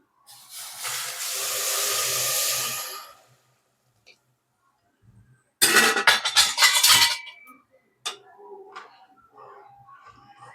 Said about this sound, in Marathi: हलवून घ्यायचं पूर्ण खालीपर्यंत.